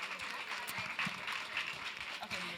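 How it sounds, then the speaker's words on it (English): Steady audience applause at a business talk at Think Bold Festival, dense clapping sustained at even loudness with a voice speaking over it. "let's give another round of applause for Miss Pinky Cole Hayes"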